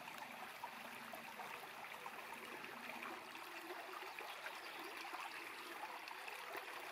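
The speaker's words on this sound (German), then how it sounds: "Wir hören noch eine Sekunde dem Plätschern zu." A small stream babbles and splashes on a quiet morning walk outdoors, a soft, continuous trickle and gurgle of water with no voices over it.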